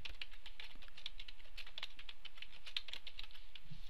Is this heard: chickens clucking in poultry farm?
no